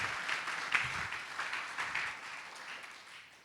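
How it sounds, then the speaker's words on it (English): A church congregation claps along during a service, a soft, diffuse patter of many hands that swells briefly and then fades out. "go ahead, clap your hands to God"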